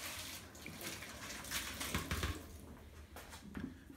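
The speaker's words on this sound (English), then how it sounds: "So what I'll do now is empty the soft water down the sink. Give it a quick rinse." Soft water tipped out of a bowl into a sink, then the bowl rinsed under the tap: a steady quiet splashing and running-water wash with a few louder pours.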